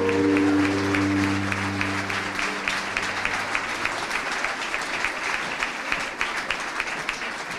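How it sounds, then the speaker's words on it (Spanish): A crowd at the Fiesta Nacional del Ternero pageant applauds the contestants; steady clapping rises as a held musical tone fades in the opening seconds, then continues alone with scattered louder claps. "Fuerte el aplauso para las aspirantes"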